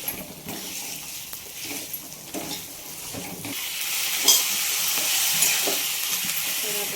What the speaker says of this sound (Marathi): बटाटा ना अगोदर टाकलं, थोडं म्हणलं परतू द्यायचं.